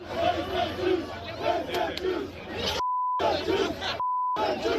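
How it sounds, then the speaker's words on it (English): A crowd at a pro-Palestinian rally outside the Sydney Opera House chants in loud rhythmic unison, with two stretches silenced by a bleep tone. "we've also heard chants like this"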